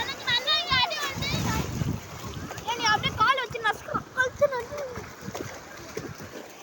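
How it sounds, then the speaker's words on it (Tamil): Children shout and squeal excitedly at a shallow rocky beach while sea waves wash and splash in the background, lively overlapping voices rising and falling over the watery rush. "கடல் அலை ஆர்வாரத்தோட பிள்ளைங்களோட ஆர்வாரம் தான் அதிகமாக இருக்கிறது"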